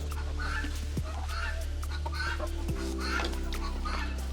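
Chickens and turkeys cluck and murmur together in a backyard farm coop, a steady, close chorus over constant low hum.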